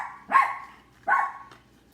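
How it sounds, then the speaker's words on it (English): Puppies give two short, close barks about a second apart, each a sharp yelp that fades quickly, followed by a faint third yip. "So now all the puppies are going to get in an uproar."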